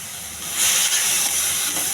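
Chickpeas and green chillies sizzle in hot oil in a pan, a steady bright hiss that swells louder partway through and holds there, with no talking.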